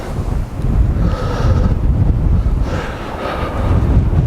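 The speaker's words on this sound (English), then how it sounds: "Again, we're hitting right into the wind." Strong wind buffets and roars across an open golf course in West Cornwall, a loud, continuous rumble that rises and falls in gusts with no voices.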